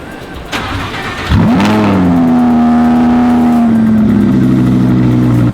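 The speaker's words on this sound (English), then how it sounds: "Cold startup." A Lamborghini SVJ supercar engine cold-starts with a starter whir and sharp catch, then flares into a loud, steady high idle that gradually settles lower, close by with no talk.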